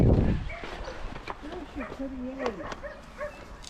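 A dog whimpers and gives short yips and barks close by, interspersed with a person talking over it.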